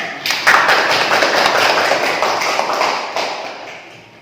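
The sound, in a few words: classroom students clapping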